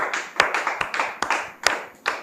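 A studio audience gives a television guest sparse, sharp applause, about half a dozen distinct claps spaced roughly a third of a second apart, fairly near and with no crowd roar.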